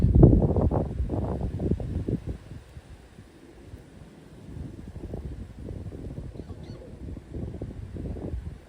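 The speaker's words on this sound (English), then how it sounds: "It's that windy, the water's choppy." Gusty wind buffets the microphone in low rumbling bursts beside choppy water, strongest at the start, easing midway, then rising again toward the end.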